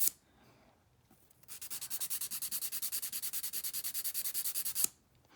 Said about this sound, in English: I'm just filing on both sides to kind of shape, and then filing down the sides to make it a little bit thinner.